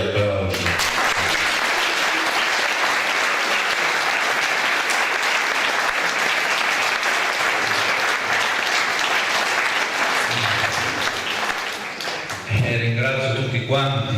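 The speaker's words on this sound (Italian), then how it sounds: "io dico che merita anche lei un bel applauso" A church congregation in a parish in Staranzano breaks into sustained applause, steady dense clapping filling the space for over ten seconds, then fading briefly before a voice speaks over the end.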